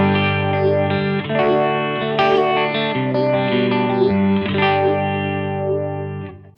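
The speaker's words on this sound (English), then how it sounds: "Now if I go to a 4-stage phaser, you'll notice straight away that the sound becomes more intense" Electric guitar through an All-Pedal Microdose phaser set to 4-stage phasing, sustained chords with a sweeping, intense swirl, loud and close, playing alone without talk.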